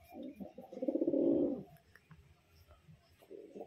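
A male pigeon coos at a female in a pet pigeon setting, one swelling throaty coo peaking mid-clip, followed by softer murmurs and a brief second coo near the end, close and fairly quiet.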